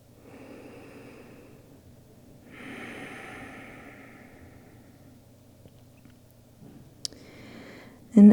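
Slow, audible breaths in a yoga child's pose, a long steady exhale and inhale close to the microphone with a soft sniff and a louder breath at the end.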